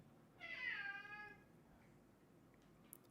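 A cat gives a single clear meow that rises and then trails off, fairly close in a quiet indoor room, with no talking.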